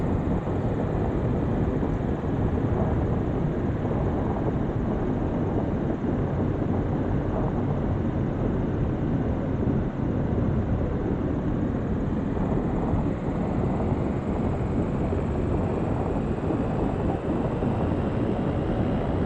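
A DA40NG single-engine propeller aircraft's diesel engine in X-Plane 12 gives a continuous, even broadband drone at steady loudness for the whole stretch, with no talking.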